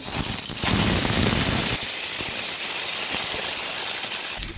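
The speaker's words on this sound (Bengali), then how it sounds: "আমি এবার সেদ্ধ করা আলুটা নুন হলুদ দিয়ে ভেজে নেব।" Boiled potatoes frying in a pan of hot oil with salt and turmeric give a steady, loud hiss that runs unbroken from start to finish, close to the mic.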